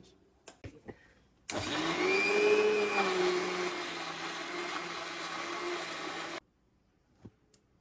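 A blender grinds green masala for coconut mutton biryani, its loud motor whirring steadily for about five seconds before cutting off, with a few soft knocks before and after.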